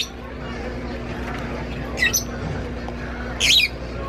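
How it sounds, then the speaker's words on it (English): Pet birds for sale in a department store give two short, sharp squawks over a steady indoor hum, with faint crowd noise in the background. "All the birds."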